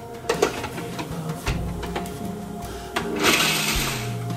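Amaretti biscuits are ground up. A clatter of handling gives way to a loud, close mechanical whirring that builds toward the end.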